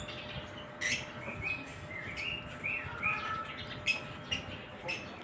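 Lovebirds chirp inside a cage with short, high, scattered calls rising above a constant soft background hiss, fairly faint and near, with no talking.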